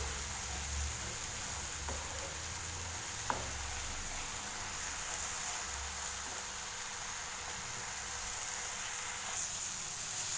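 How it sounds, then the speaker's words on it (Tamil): Tomatoes sautéing in hot oil in a pan for an egg masala curry give a steady, dense sizzle that hisses on unbroken throughout, with a few faint taps of a spoon. It is close and even, with no voices. "தக்காளி பழத்தை நல்லா வதக்கி விடணும்"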